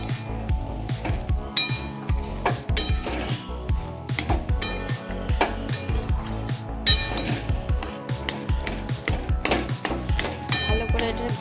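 A spoon works through a pot of mixed vegetable chorchori, which has cooked down until its water is gone. It gives a steady run of close metallic clinks and scrapes against the pot with no talking.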